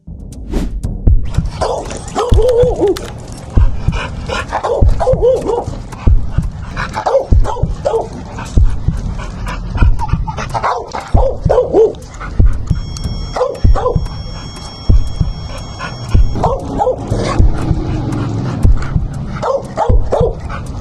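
A reactive dog named Storm barks repeatedly and aggressively close by, with sharp, rapid barks and yips mixed with occasional whimpers during training.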